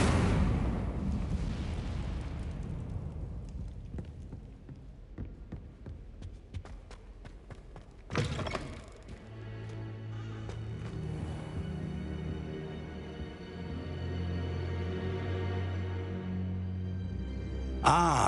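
An Incendio fire spell cast in a Hogwarts video game, bursting with a loud whoosh and crackle at the start, fading into a rumbling tail, with a second sharp flare midway and ambient tones after.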